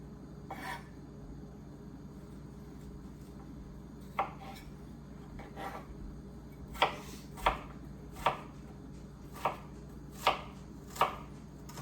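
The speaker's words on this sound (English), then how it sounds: "We've got the onions all chopped up." Sweet onion chopped with a knife on a cutting board, sharp close thuds starting sparse and then coming in a fairly steady run of about seven strokes over a quiet room hum.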